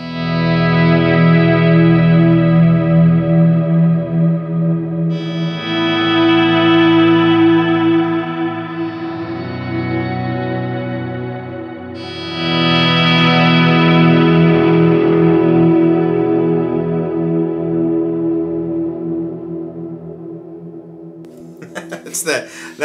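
An ambient guitar swell patch on a Line 6 HX Effects blends Supermoon, RV-5 and Shimmer reverbs with delay: long sustained chords bloom and wash in three waves, ringing out into a shimmering tail before a few faint string noises.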